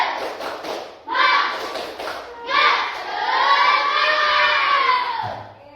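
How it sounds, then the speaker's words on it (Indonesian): Schoolchildren standing in an Indonesian classroom do a rhythmic spirit-clap ice-breaker, bursts of clapping and shouting voices that swell loudly, then a long sustained chorus of children's voices fading near the end. "Tepuk semangat."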